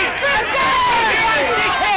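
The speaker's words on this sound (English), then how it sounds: "The crowd's not happy" Football crowd at a Sunshine v Altona senior match groaning and jeering in displeasure after a mark, a dense murmur of distant voices throughout.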